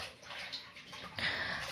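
Grated potato for chips is rinsed in water in a kitchen, a brief, quiet swish and splash with no talking.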